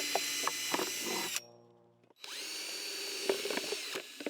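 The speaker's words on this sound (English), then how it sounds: "So we're just using a drill." A power drill bores drainage holes in a plastic container in two bursts of whirring, separated by a short pause as the motor winds down and then spins back up, close and steady.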